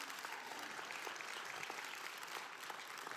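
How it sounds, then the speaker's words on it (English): Congregation clapping during a church sermon, a dense, even patter of many hands heard faintly and at a distance, steady for the whole stretch with no talk over it. "Go ahead and clap. Don't do it halfway."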